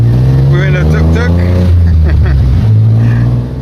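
Tuk-tuk engine droning loudly while riding through Bangkok, a steady low motor tone with shifting revs, and people talking over it.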